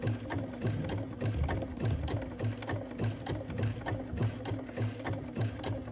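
A Bernina sewing machine stitches a corded buttonhole, its needle hammering in a steady, fast mechanical rhythm with a low motor hum underneath, close and continuous, with no voices.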